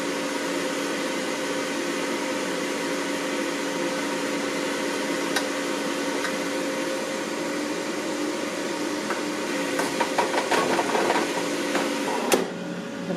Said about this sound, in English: It does sound like there's frying going on in there. I can hear the sputtering of the oil.